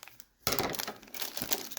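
Scissors snip and slice open the foil wrapper of a 1991 or 1990 Donruss baseball card pack, close-up crinkling and crackling of the wrapper in two bursts, with no talk.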